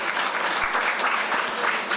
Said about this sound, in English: Give them a round of applause again, ladies and gentlemen.